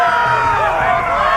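A crowd cheering and shouting in the Game of Thrones Telltale video game, a loud, dense roar of many voices held steadily throughout.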